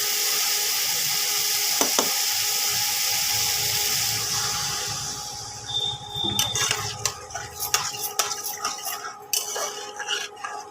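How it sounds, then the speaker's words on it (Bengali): Hot oil and spices hiss loudly as water is poured in for a Bengali katla posto curry, a steady broad sizzle that breaks into crackling, spitting bursts with a few utensil clinks. "তেল বেরিয়ে গেছে, এবার বন্ধুরা জল দিয়ে দেবো।"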